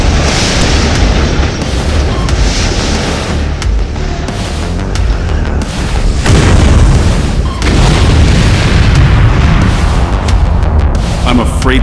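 Explosion blasts in an animated film set during a doomsday survival crisis, heavy booming rumbles sustained and loud across the clip, with a fresh burst midway, under a speaking voice.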